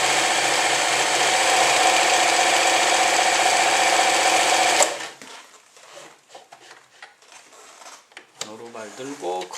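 A Swiss Elna 393 sewing machine stitches at a fine 0.7 stitch length, giving a fast, steady mechanical whir for several seconds. It then stops abruptly, leaving scattered handling clicks and a voice speaking near the end.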